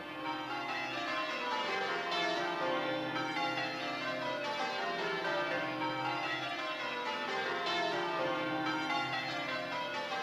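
Church bells of a London church ring in dense overlapping peals, a steady wash of tolling tones with no pauses, fairly loud and continuous throughout.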